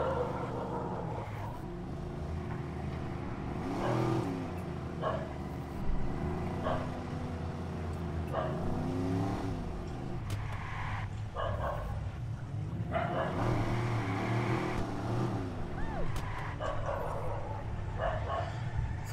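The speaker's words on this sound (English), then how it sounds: "Fucking dogs are barking, man." Dogs bark repeatedly in the Watch Dogs video game, with yips and whimpers mixed into a steady background hum and passing car noise. The barking comes in irregular bursts at moderate distance.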